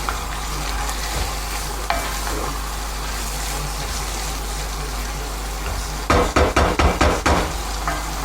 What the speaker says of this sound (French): on va laisser pendant un quart d'heure, 20 minutes, ça mijoter à feu doux